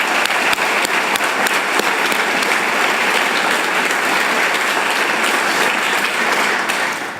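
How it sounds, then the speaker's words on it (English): An audience at a groundbreaking ceremony welcomes the trustees with sustained, dense applause that holds steady for about seven seconds and fades slightly at the end, with no speech over it. "hold your applause until all three are standing"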